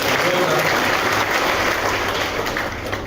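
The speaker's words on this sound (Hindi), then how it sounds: "जोरदार तालियों से उनका स्वागत करें" Loud, continuous applause from a crowd at a Congress party political gathering, a steady wash of clapping with a faint low hum beneath.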